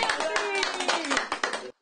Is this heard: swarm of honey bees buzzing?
no